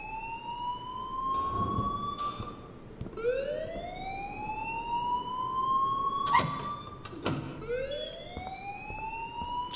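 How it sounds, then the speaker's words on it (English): Wailing school alarm from the video game Life is Strange, rising and falling in long repeated sweeps, loud and continuous, with a few brief sharp noises layered in. "please turn off that alarm since that's your job"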